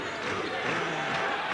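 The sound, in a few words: basketball crowd cheering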